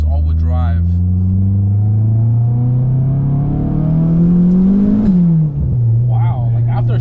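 A turbocharged Honda CRX with a B-series engine, making 550 with all-wheel drive, accelerates hard, its loud droning engine note climbing steadily before a sharp drop at the shift, then settling lower as people talk briefly inside the car.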